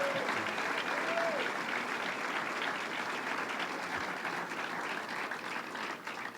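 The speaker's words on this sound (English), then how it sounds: "let us give you a round of applause." An audience at a state fair announcement breaks into sustained applause, a dense, steady roar of clapping heard from a distance that tapers slightly at the end.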